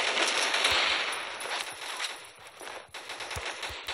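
Rapid automatic gunfire in the PvP shooter game Rival Fire, with dense bursts of shots over loud hissing noise, then sparser single reports toward the end.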